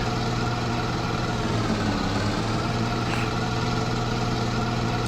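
A tractor engine idles steadily in a farming video game, a continuous low rumbling drone at an even level throughout, with no talking over it.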